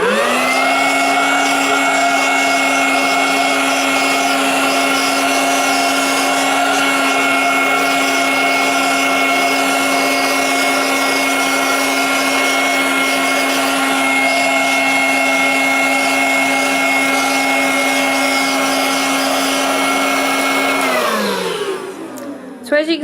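A cordless handheld vacuum cleaner fitted with a crevice tool runs loud and close with a steady high whine for about twenty seconds, then spins down and cuts off at the end.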